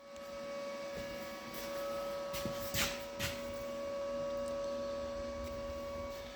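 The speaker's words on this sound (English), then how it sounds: "I'm going to start welding the back side here" Steel radiator support for a chopped 1949 Chevy being welded, a steady buzzing hum with a constant tone running throughout, broken by a couple of brief sharp crackles midway, close and moderately quiet with no talking.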